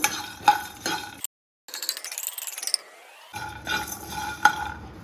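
Cloves and cinnamon being stirred with a metal spoon in a pan, giving a few sharp clinks and scrapes in short bursts, broken by a brief silence and a whooshing interlude.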